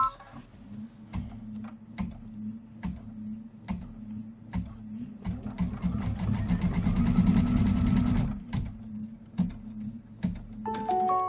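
An embroidery sewing machine stitches a rocket fuse detail in red thread, with a steady mechanical hum and a rapid rhythmic needle clatter. It rises in intensity partway through, then slows, with scattered clicks close by.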